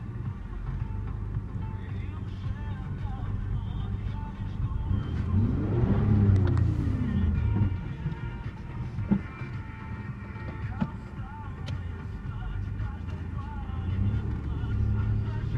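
A Mitsubishi Montero Sport's engine hums from inside the cabin while driving, with a steady low drone that swells as it accelerates around the middle, under a voice.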